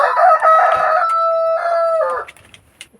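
A farm rooster crows loudly and close by, one long harmonic cock-a-doodle-doo that breaks off near the end, followed by faint scattered clucks and rustling.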